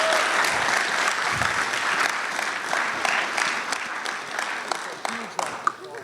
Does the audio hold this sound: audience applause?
yes